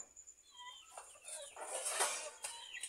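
A few chickens give faint, scattered clucks and calls at a village home in the evening, heard alone and fairly distant.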